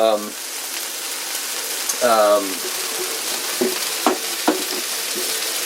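Ground beef frying in a cast iron pan gives a steady, close hiss of sizzling, with occasional scrapes of stirring, while a voice speaks briefly at the start and again around two seconds.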